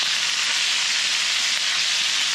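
Chicken fries in a pan with a loud, close, continuous hiss and crackle of hot oil that holds steady throughout.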